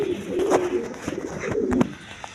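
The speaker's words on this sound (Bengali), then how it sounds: "হাই হাই ফ্লাইং গিরিবাস কবুতর আছে দেখেন" Giribaz high-flying pigeons coo close by in a short run of soft, throaty, rolling calls, two or three swells over a faint room background.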